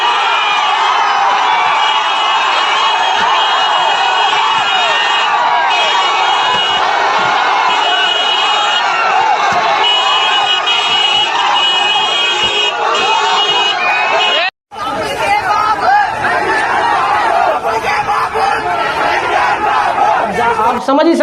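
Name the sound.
large crowd of Pawan Kalyan supporters cheering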